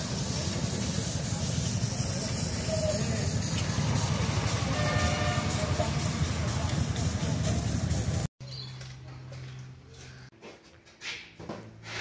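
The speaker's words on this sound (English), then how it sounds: "I'm doing a train ride." Continuous rumbling clatter of a miniature model-engineering train rolling along the track in Clare, South Australia, steady and fairly loud, then an abrupt drop to quieter outdoor sound near the end.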